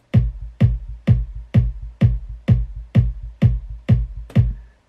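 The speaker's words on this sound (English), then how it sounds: "And then together with the kick sounds like this." Kick drum and bass line played together after equalizing in FL Studio, ten evenly spaced punchy hits each with a booming low tail, loud and close with nothing else.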